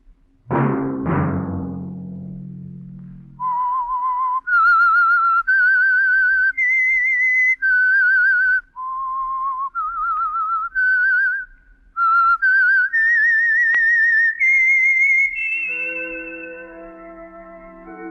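A sharp double knock-like hit, then a clear solo whistled melody of rising and falling notes, the theme of the radio program The Whistler, ending on a sustained chord.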